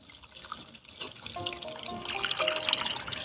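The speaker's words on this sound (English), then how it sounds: "Now gently add 4 to 5 inches of water above the soil, being careful not to disturb the tuber." Water is poured gently into a potted lotus over soil, a soft trickling and splashing that starts faint and grows steadily fuller and louder as the pour continues, with no talking.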